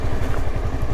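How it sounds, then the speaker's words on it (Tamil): A Honda CBR 250R sports tourer motorcycle engine roars loud and close with a rough, pulsing low rumble, heard on a mountain road ride. "வண்டி உரும்புது."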